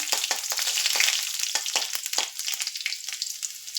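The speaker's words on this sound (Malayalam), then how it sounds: "കടു താളിക്കാനായിട്ട് ഞാൻ എണ്ണ ഒഴിച്ചു അല്പം കടു കിട്ടിയിട്ടുണ്ട് കൂടെ തന്നെ രണ്ട് ഉള്ളി അരിഞ്ഞതിട്ടിട്ടുണ്ട്" Mustard seeds and two chopped onions crackle in hot oil for tempering: a loud, close sizzle broken by rapid bursts of popping and spattering at an uneven rhythm.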